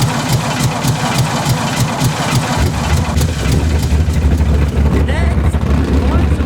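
A John Deere Gator utility vehicle engine cranks and catches, then settles into a steady, close, mid-to-low idle rumble that runs throughout.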